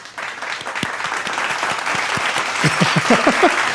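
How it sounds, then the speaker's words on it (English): A canned applause sound effect swells up from near silence into loud, dense clapping from a large audience, continuing steadily, with a few brief vocal-like tones near the end. "can we have a clapping sound?"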